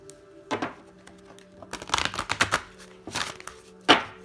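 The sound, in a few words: shuffling a deck of oracle cards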